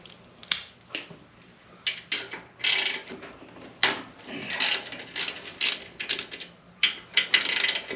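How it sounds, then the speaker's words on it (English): A hand ratchet clicks steadily while rocker arms come off the heads of a Harley-Davidson Twin Cam engine, in close, repeated bursts of quick pawl clicks. "now we'll take the rocker arms off."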